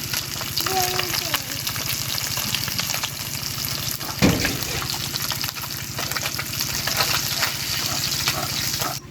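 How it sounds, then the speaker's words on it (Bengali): Fish fry lightly in hot oil in a pan over a village clay stove, giving a steady, continuous close sizzle with a brief louder crackle partway through. "মাছগুলো আমি বেশি কড়া করে ভাজবো না হালকা করে ভাজি নেবো এইভাবে"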